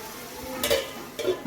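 Onion cooking with a pinch of salt in a covered pan over low gas, giving a soft, steady low sizzle with two brief brighter hisses or stirs, close by and without talk.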